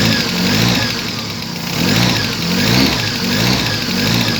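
A car engine revs up and eases off in rolling surges while accelerating, loud and close, with no voices over it.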